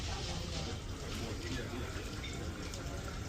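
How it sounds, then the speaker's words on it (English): An indoor decorative waterfall on a cruise ship gives a steady, even rush of falling water, continuous and moderately close, with faint voices in the background. "Waterfall there with the piano."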